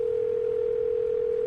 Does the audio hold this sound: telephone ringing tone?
yes